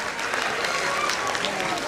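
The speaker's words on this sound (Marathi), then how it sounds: "त्यांच्यासाठी एकदा सगळ्यांनी जोरदार टाळ्या वाजवायच्या आहेत" An audience claps at a pre-school annual day, giving a brief, moderately loud burst of scattered applause with a voice faintly present.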